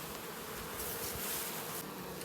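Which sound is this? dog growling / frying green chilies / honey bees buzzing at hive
honey bees buzzing at hive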